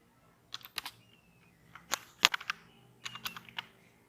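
Someone types PPSC into a Google search on a computer keyboard: quiet, close keystrokes in a few short, uneven bursts separated by brief pauses.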